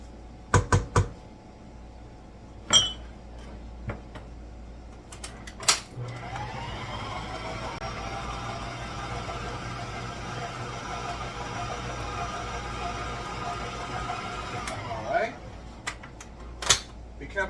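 An electric mixer beats cheesecake batter of room-temperature cream cheese, sour cream and eggs, a steady whirring drone running for about nine seconds, with scattered clicks and taps before and after.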